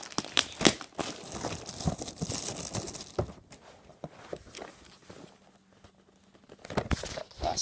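Crinkling plastic packaging handled during an unboxing, crackling in bursts over the first half and tapering to near silence before a brief return at the end, with a faint hum under the quieter stretch.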